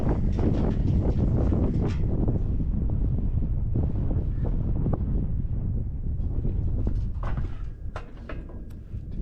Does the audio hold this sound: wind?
yes